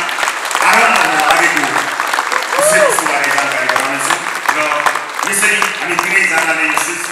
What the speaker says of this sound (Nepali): यहाँहरूले भित्री मनबाट शुभकामना र सुभाषिससहित जोरदार ताली बजाइदिनु भयो भने